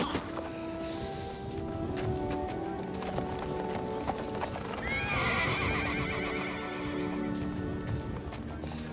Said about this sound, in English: Tend to the horses.